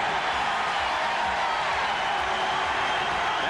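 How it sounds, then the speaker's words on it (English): A football stadium crowd roars during a 1990 Louisville college game: a loud, continuous wash of massed voices from the end-zone stands, steady and unbroken throughout. "The roar of the crowd out of the crunch zone."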